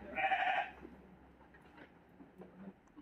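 A goat on an Indonesian livestock farm gives one clear bleat near the start, followed by quiet farm background with faint scattered knocks and rustles.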